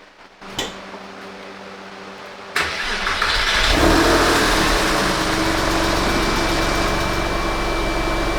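A Porsche 911 that had been crashed, with its engine low on oil, cranks briefly and then catches and starts, settling into a loud, steady idle with a rising rev.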